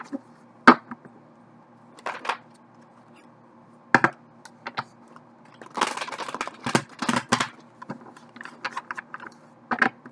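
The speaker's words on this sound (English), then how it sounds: "One more shuffle." A deck of tarot cards is shuffled close by in quiet surroundings, with scattered crisp card snaps and a dense flurry of riffling and tapping in the middle.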